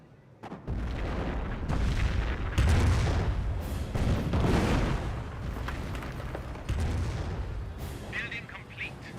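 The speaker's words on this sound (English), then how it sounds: "Nebelwerfer's firing away." Nebelwerfer rocket artillery fires in Company of Heroes, a World War II strategy game, producing a run of heavy booming launches and rumbling blasts that rise and fall over several seconds amid other battle noise, with no talking.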